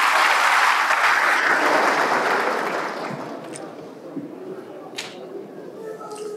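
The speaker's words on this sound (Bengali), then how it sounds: "আপনারা নিজেদের জন্য একটা করতালি দেন" Audience of engineers applauding at a talk, a dense burst of clapping that starts loud and gradually thins out, leaving scattered claps and faint murmurs.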